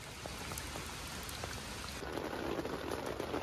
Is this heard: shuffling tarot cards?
no